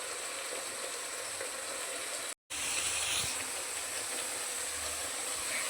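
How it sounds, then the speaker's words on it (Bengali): Spinach paste hitting hot, oil-releasing masala in a pan, giving a loud, steady sizzle and hiss that runs nearly throughout, broken by one brief cut. "এরপর এর মধ্যে দিয়ে দেব পালং শাকের পেস্টটা"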